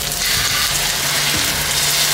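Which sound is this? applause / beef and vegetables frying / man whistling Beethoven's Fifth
beef and vegetables frying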